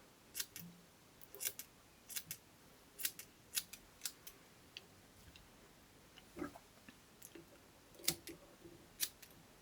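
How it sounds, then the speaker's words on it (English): Scissors trimming fibers on a fly-tying jig, making a dozen or so quiet, crisp snips spaced irregularly, close up over low background hiss. "So I'm going to cut the back of it flat."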